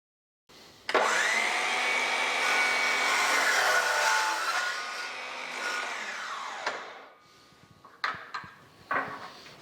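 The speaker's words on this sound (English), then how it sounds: "So I'm going to cut a 3/4 inch block off of here and a 3/4 inch block off of here." A power saw cuts a 3/4 inch block from a vinyl flooring plank. A steady whining drone lasts about six seconds and then winds down, followed by a few light clunks as the pieces are handled.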